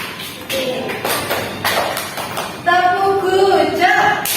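A primary-school class in Grade 1 performs a rhythmic 'tepuk hijau' clapping cheer, with bursts of taps and claps, children's voices chanting and a teacher talking over them, growing louder in the second half.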